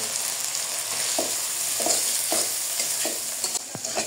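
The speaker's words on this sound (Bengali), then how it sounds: "পরিমাণ মতো লবণ, পরিমাণ মতন হলুদ। দিয়ে দেবো টমেটো কুচি।" Chopped tomato with salt and turmeric frying in a pan for a cauliflower and egg dish: a steady, close sizzle with a spatula stirring and scraping at regular intervals.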